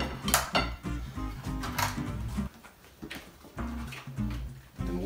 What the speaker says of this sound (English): I'm gonna put some plates out here.